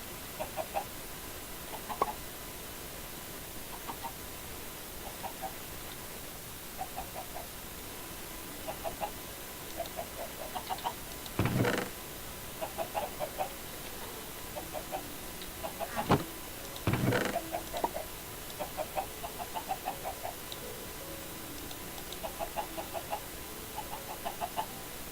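Minecraft chickens cluck at intervals in a Stoneblock modpack game, producing short, soft clucks scattered across a quiet background, with a couple of louder clicky bursts between them.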